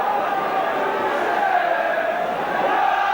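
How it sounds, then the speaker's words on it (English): The St Helens Saints rugby league crowd roars during a match against Leeds, a continuous loud mass of voices with what sounds like a commentator talking over it. "Certainly the Saints crowd getting behind them now."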